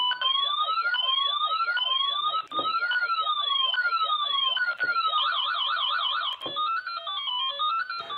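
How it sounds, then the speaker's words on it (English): With its leads shorted together, a Fluke Pro3000 tone generator cycles through changing electronic tones. Loud, close sweeping siren-like warbles rise and fall, then shift into a faster trilling pattern, with brief breaks between patterns and no speech. "Now when these leads are shorted together, it'll change tones. I believe it's got 5 different tones"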